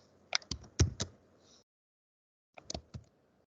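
Computer keyboard typing during Python coding: two short clusters of crisp key taps, a quick burst of several strokes then a pause and a brief second flurry, fairly close and alone.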